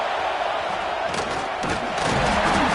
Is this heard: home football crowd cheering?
yes